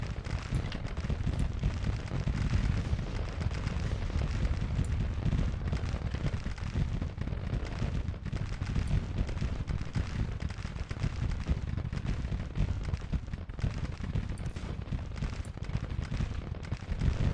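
Continuous dense rumble of cannon and artillery fire in a Grand Tactician: The Civil War battle, booming steadily and evenly throughout with no clear pauses.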